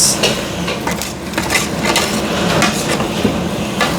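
A country chicken roast being stirred in a cooking pot gives repeated metallic scrapes and clinks of a spoon against the pot, steady and close, with background room noise throughout.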